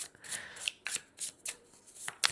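A tarot deck being handled: a string of quick, crisp card riffles and flicks in regular bursts, close and fairly quiet, with no talking.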